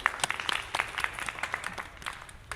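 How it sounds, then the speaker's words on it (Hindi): Audience clapping at a Republic Day speech event, a steady scatter of hand claps from a moderately sized crowd, sustained and fairly close without speech. "अगर मेरी कुछ लाइनें अगर अच्छी लगती हो तो एक बार तालियां जरूर बताएं"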